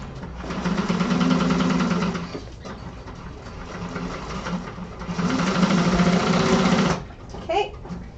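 A sewing machine stitches fabric in two loud, steady whirring runs separated by a short pause, stopping with a few faint clicks at the end.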